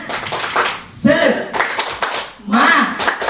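Rhythmic group clapping from a standing audience doing a spirit-clap ice breaker at a teachers' training session in Indonesia, bursts of hand claps alternating with a leader's loud chanting voice.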